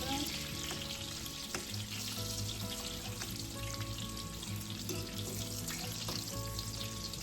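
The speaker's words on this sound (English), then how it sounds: "I'm just going to give that a flip here, and I have it slow frying." Breaded chicken cutlets fry slowly in a pan with a steady, close sizzle and occasional crackles throughout. A faint tonal background sits underneath.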